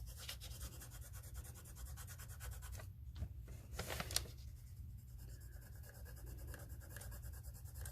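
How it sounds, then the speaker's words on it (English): Pencil or crayon coloring in a sheet of paper for an animal portrait, a steady, quiet scratchy rubbing that runs continuously throughout with no talking. "So we are coloring in this entire paper"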